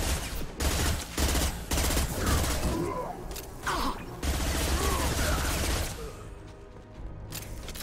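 Gunfire in Mass Effect 2, rapid bursts of automatic shots with metallic mechanical clatter, loud and close, broken by short pauses before fading near the end.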